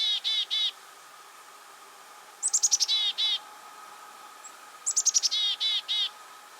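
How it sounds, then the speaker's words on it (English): Black-capped chickadee giving its chick-a-dee call, three bursts of high buzzy notes at moderate distance, separated by pauses over a steady background hum. "They say chickadee dee dee dee"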